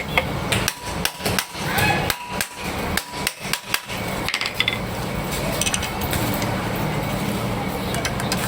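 Hammer blows strike metal while a depositor is fitted onto a household water pump, a quick run of about ten sharp, loud, close knocks in uneven clusters, then steady workshop background.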